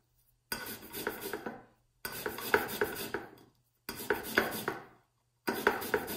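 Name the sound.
zesting tangerine peel with a citrus zester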